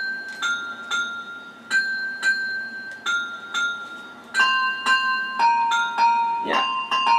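Handbells in the Wii Music video game ring out in a steady series of bright, sustained chimes, each struck tone lingering, the later notes higher and denser, with faint talk in the background.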